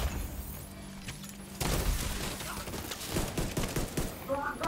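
Rapid machine gun fire from a tower-assault fight in the video game The Division 2, a dense rattling burst that starts abruptly and runs on loudly with crashing impacts, while players talk over it.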